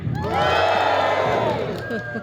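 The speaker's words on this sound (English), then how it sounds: "A practice of cheering." Audience cheering on cue, a loud burst of crowd shouting and whooping that swells quickly, holds for about two seconds, then tapers off.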